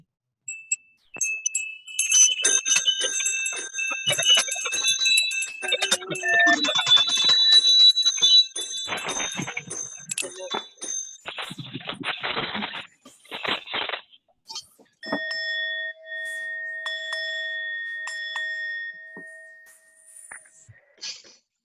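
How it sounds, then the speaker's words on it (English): Many participants ringing handbells and chimes together over an online call, a dense overlapping clangor that gives way to sparser, clear single strikes and sustained tones, some harsh with compression noise. "let's take a moment and unmute ourselves and ring our bells one more time"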